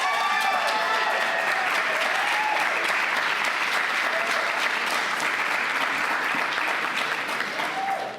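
A seated audience at an academic salon event gives continuous, dense applause that stays steady and moderately loud before tapering at the end, with faint scattered voices underneath.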